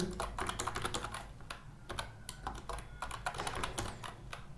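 Close-up typing on a computer keyboard, a quick run of clicky keystrokes with short pauses between bursts and no one talking.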